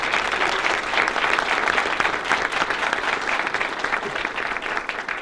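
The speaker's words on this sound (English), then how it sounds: "please stand and turn around so they can see you and applaud you for your time" A full room applauds a board of directors at a community gathering, the clapping dense, steady and sustained from start to finish without a break.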